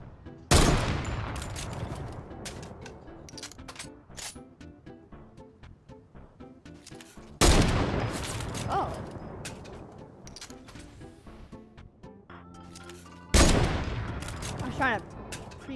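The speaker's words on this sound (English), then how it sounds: "Where the F is this guy shooting?" Bursts of gunfire from another player in a video game: three loud rapid-fire volleys, each a sharp crack trailing into decaying echoes and scattered shots, with quieter gaps between.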